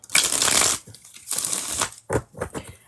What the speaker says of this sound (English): Can I do a random shuffle and take one card and give an interpretation?